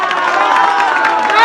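A large crowd at an outdoor political rally breaks into loud, sustained cheering and clapping, a dense continuous roar that swells toward the end.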